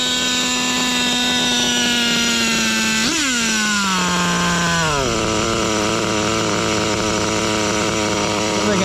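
A nitro engine in a Serpent Vector Nova Mega RC car runs loud and close, with a high, sustained buzzing whine that briefly jumps in revs, then settles into a lower, steady idle.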